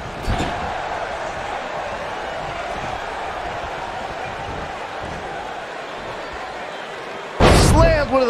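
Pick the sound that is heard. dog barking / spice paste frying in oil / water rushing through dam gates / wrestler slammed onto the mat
wrestler slammed onto the mat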